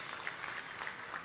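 Steady applause from an audience at a felicitation ceremony for a Maharashtra public works minister, an even wash of clapping filling the whole moment with no talk over it.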